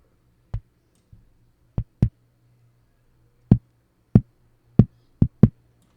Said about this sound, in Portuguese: Esse é o som de papelão que tem no bumbo.